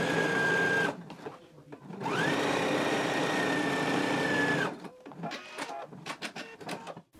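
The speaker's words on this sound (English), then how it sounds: "apply stay stitching along the upper edge of our front pant" A sewing machine runs stay stitching along the upper edge of a front pant piece at a half-inch seam allowance, whirring steadily in two long runs separated by a short pause, with softer handling noises near the end.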